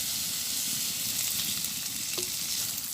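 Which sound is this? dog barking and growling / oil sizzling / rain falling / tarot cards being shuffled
oil sizzling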